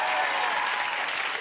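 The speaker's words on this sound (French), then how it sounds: "applaudissements pour Philippe Lachaud et Tarek Boudali" A French television studio audience claps steadily and loudly, a dense wash of applause for the guests that carries on without a break.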